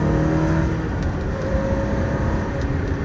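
A Ferrari accelerating on the road, a loud sustained engine drone and whir heard from inside the car, with rising tones and no talking.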